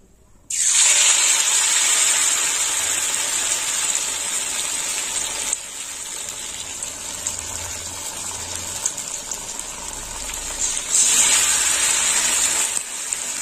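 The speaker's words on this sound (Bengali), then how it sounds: "এবার ভেজে নেব, একটু খুলে আসছে।" Flour-coated cabbage pieces drop into hot oil and fry with a sudden loud, steady hiss that eases slightly midway and then swells again as more pieces go in, close and continuous, no talk.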